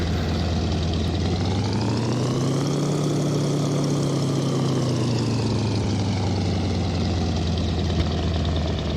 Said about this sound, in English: little bounce, but 3 wheels on the runway, that could have been a lot worse